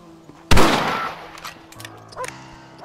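A rifle in Red Dead Redemption lets off one loud, close blast with a ringing, echoing decay, followed by a few fainter clicks and knocks.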